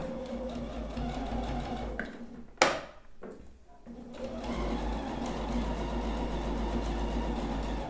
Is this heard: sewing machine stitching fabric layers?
yes